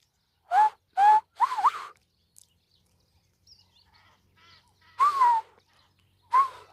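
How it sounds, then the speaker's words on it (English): African fish eagle calling beside a river before sunrise: loud, ringing yelping cries, three in quick succession, then two more after a quiet pause with faint background sounds. "When the fish eagle calls, the meerkats and mongooses become extremely alert."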